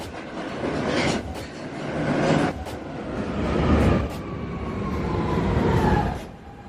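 A New York City subway 1 train approaches a station along the Rose Street platform, with loud continuous rail rumble and rhythmic wheel clatter swelling in waves, a faint high squeal running through it, and no voices.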